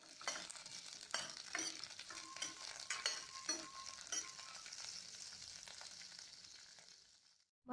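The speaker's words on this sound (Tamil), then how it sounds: "எண்ணெய் சூடானப்புறம் நம்ம எடுத்து வச்சுருக்கிற பொருளை இதில் வறுத்து எடுத்துக்கலாம்" Peanut chutney ingredients, peanuts among them, frying in hot oil with a close crackling sizzle and scattered sharp pops, fairly quiet, ending in a brief silence.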